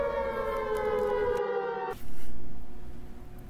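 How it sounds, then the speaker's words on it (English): A siren sound effect: a loud, steady wailing tone that cuts off abruptly partway, followed by a brief burst of noise and then a quieter, muffled background hum. "What is that siren?"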